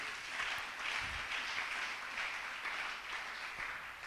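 A church congregation claps their hands together in praise, a steady, fairly faint wash of applause held throughout.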